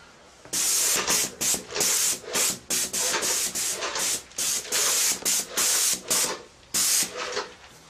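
Decorative stain sprayed onto a masked-off surface in a rapid series of short, close, loud hissing bursts, about a dozen spurts separated by brief pauses, with no talking.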